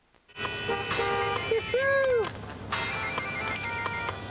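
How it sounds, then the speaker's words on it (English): Several car horns honk in the street, long sustained toots overlapping and sounding close, with a warbling tone in the middle. "people are honking"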